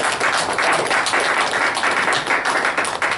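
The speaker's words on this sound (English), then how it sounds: "I really want to thank them and give them a round of applause." Steady applause for 58 police cadets, a thick continuous patter of many hands clapping at close range that holds at an even level from start to finish.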